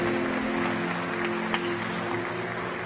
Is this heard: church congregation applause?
yes